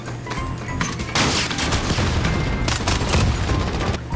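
Rapid bursts of Fennec (Vector) submachine gun fire in Call of Duty: Modern Warfare multiplayer, loud close automatic volleys with heavy low-end thumps, sustained chattering fire broken by brief gaps.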